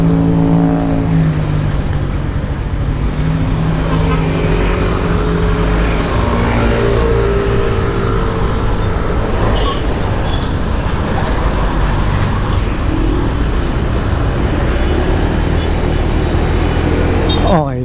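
Steady, loud road traffic on Commonwealth Avenue picked up by a GoPro Hero 7 Black mic mounted on a motorcycle helmet, continuous engine rumble and wind wash with vehicles passing throughout.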